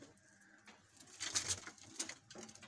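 Pigeons in a breeder setup coo softly, a few faint, low murmuring calls in a quiet space with no talking.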